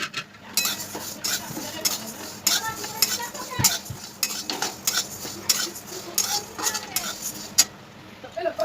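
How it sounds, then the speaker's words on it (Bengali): Moong dal being dry-roasted in a hot wok: a utensil scrapes and stirs against the metal in steady, busy strokes, with a faint sizzle underneath and a voice in the background. "কড়াই গরম হয়ে গেছে, দিয়ে দেবো ডালটা।"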